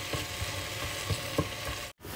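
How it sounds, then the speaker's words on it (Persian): Carrots frying in oil in a pot, giving a steady loud sizzle with occasional stirring clatters and a brief cut-out near the end. "یه مقدار روغن به یه قابلمه جداگانه اضافه میکنیم که هویج سرخ کنیم."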